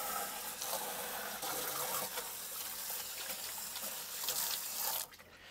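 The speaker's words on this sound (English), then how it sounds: "we're just going to rinse the rest of this out" Hose water streams steadily into a Pentair cartridge filter housing with the drain plug removed, a loud continuous gushing rinse that cuts off abruptly near the end.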